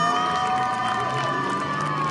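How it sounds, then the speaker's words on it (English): A crowd at the podium after the final FIA GT3 race of the season at Zandvoort applauds and cheers steadily, a loud continuous mix of clapping, shouts and whoops heard from a short distance. "Lots of applause from them down there."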